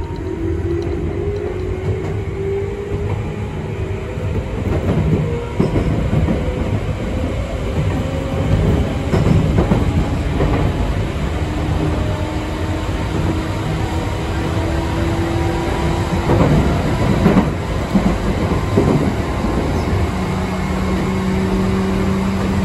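A Tokyu 8500 series electric train runs between Kasukabe and Shin-Koshigaya, its traction motors whining in rising and falling tones over a loud, steady rumble of wheels and car noise, with occasional clanks and no speech.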